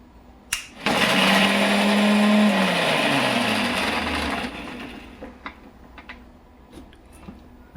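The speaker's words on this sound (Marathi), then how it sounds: "चला आता ही मिरचीचं आपण पेस्ट करून घेऊ" A mixer grinder whirs loudly as it grinds green chilies into a coarse paste, starting abruptly, running steadily for several seconds, then winding down, followed by light kitchen clatter.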